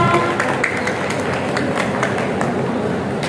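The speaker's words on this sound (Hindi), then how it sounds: "जोरदार तालियों से इनका स्वागत कीजिए" Applause rises from the audience at a Hindi kavi sammelan (poetry gathering) in the Patel Mandap at Meerut's Nauchandi Mela, greeting poet Gauri Mishra. It is a steady, dense wash of clapping from a large crowd that holds at even volume throughout.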